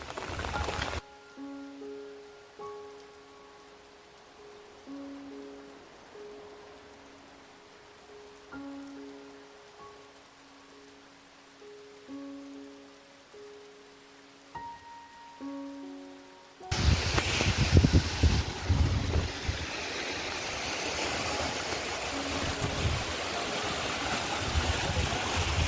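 Heavy pouring rain in a village arrives after a long stretch of soft, sparse electronic tones. It becomes a dense, loud, roaring downpour with splashing that fills the rest of the time.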